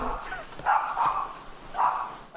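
A neighbour's dog barks a few times at mid distance, loud bursts rising over steady outdoor background rumble in a noisy residential area near a train line.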